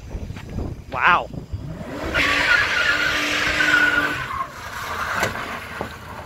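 A Dodge Stratus R/T with a stick shift does a burnout, its tires squealing loudly and steadily for about two seconds while the engine revs hard nearby, with people talking before and after.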